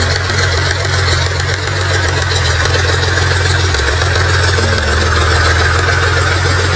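A scooter engine idles close by in a farmyard, giving a steady, even low hum that runs unbroken for the whole stretch with no voices.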